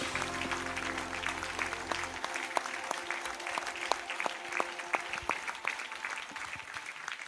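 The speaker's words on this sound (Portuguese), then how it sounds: "Você pode aplaudir a Jesus essa noite" A church congregation applauds during evening worship at a seminar, steady sustained clapping from many hands, with a few scattered louder claps and faint voices beneath.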